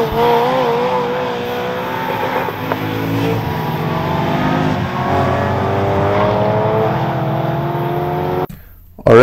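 A 2ZZ-swapped Toyota MR2 Spyder runs hard through a time attack lap, its engine droning loudly with continuous harmonics rising and falling through gear changes. The engine note cuts out sharply near the end, and a voice is faintly present.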